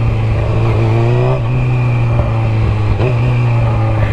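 Motorcycle engine drones loud and close at a steady pitch, with brief rev blips around each downshift as the tone dips and jumps back up, heard over wind noise without talk.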